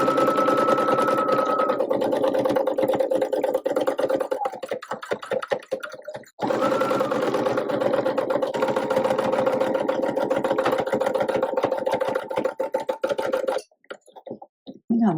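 A sewing machine stitches thread painting across a quilted surface, a steady close, loud mechanical whir with dense rapid needle clatter that stops briefly mid-way, restarts, then cuts out near the end.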